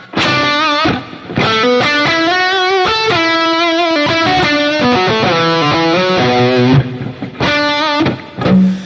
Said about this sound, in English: So I'm just going to send a proper amount from the guitar tone to the reverb.